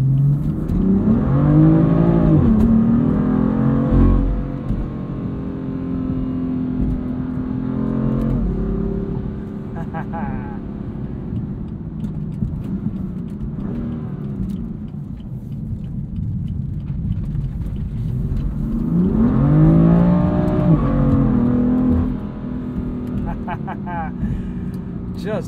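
A 2015 BMW M4 with a DCT gearbox, tuned to 530 hp and running on E85, accelerates hard from inside the cabin. Its engine note swells loudly in two long revving pulls with a steady drone between them, and no voices are heard.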